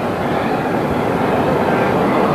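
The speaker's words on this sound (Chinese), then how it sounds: "我们现在看到飞机已经在跑道上开始缓缓的滑行" A passenger jet lands and taxis on the runway at Macau International Airport, its engines a loud, continuous broadband roar that holds steady throughout with no speech over it.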